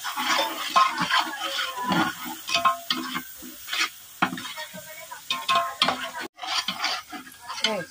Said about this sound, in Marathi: बेडगीचं तिखट, हळद, धना पावडर सगळं मसाले टाकून घ्यायचे आणि ते चांगले मसाल्यामध्ये परतून घ्यायचे